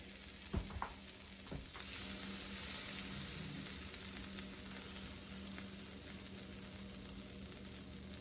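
Butter sizzling in a cast iron skillet on the stove, a few knocks of the pan at first, then a steady close hiss and crackle that holds evenly.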